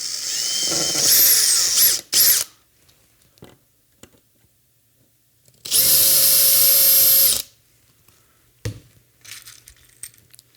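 Power drill boring the last holes through bumper brackets, two loud whirring bursts of about one and a half seconds each separated by a quiet pause, with small clicks and taps of tools and parts between them.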